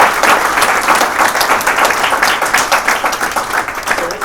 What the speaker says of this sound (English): let's get another round of applause for all